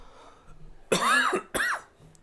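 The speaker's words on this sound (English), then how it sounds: "I tried to cough to make them look like I was sick" Two rough coughs close by, a longer one followed by a shorter one, against a quiet background.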